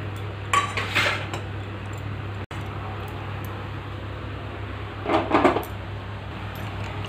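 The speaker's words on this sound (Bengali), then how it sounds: "এখন আমি কুকারের ঢাকনাটা লাগিয়ে দিচ্ছি।" A pressure cooker lid goes on during mutton curry cooking in a home kitchen, heard as two short bursts of metallic clattering and clinking over a low, steady background hum.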